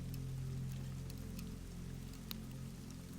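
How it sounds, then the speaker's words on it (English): Steady rain falls on a winter night near a castle and river, as a soft, continuous patter with occasional brighter drops over a low, constant background. "the sound of the rain leapt suddenly close and loud and silver"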